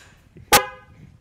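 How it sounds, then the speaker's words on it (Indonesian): A used motorcycle's horn that sounds like a truck horn gives a single short, loud, brassy blast near the middle of an otherwise quiet moment. "klaksonnya kayak klakson truk rek"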